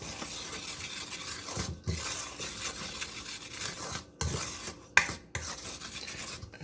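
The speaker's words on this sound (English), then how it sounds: "give it a little whisk. Get that sugar stirred through the dough" Self-rising flour and sugar whisked together in a bowl, making a continuous dry rasping, rubbing scrape with brief pauses and a few louder knocks against the bowl, close and alone.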